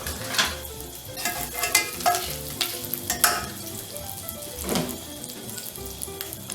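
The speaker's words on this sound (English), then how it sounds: "I'm gonna chuck a chunk of butter in there. Stir it around." Butter sizzling in a warm pan before cooking rainbow trout fillets, a close crackling fry with repeated scraping stirs and soft bursts of spatter.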